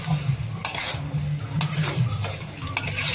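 Spice masala is stirred and sautéed in a pan, with a low steady sizzle broken by several sharp scraping strokes of a spatula against the metal, close up and without talk.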